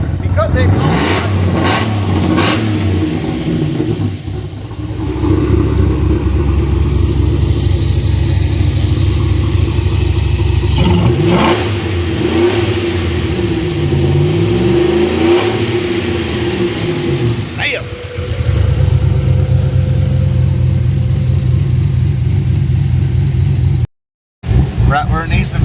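A loud, lumpy cammed V8 in a Chevy Avalanche idles and revs repeatedly, rising and falling in pitch, with a brief cutout near the end.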